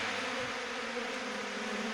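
Thousands of honeybees buzz steadily around a beehive, a close, continuous drone with no talk over it.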